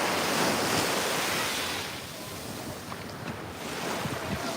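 Ocean waves at Jabaquara Beach on Ilhabela, Brazil, give a steady broadband wash of surf with wind buffeting the microphone, loud at first and then easing slightly, with no voices.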